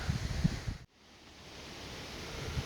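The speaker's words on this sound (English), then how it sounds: "It's windy and cold." Cold wind blows outdoors at a Victorian house restoration site, making a soft, broad hiss with low gusty rumble; it cuts out abruptly near one second, then slowly builds back.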